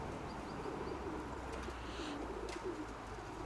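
A domestic pigeon coos softly in a low, rolling murmur, a faint call repeating at a short distance amid quiet background noise, with brief higher bird chirps.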